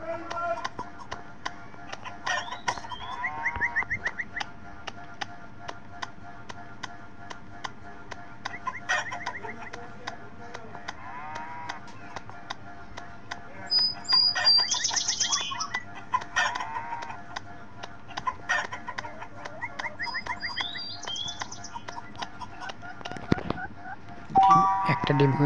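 Hens cluck intermittently around a yard where eggs are being laid and the birds caught, with scattered chicken calls and background chatter of people throughout.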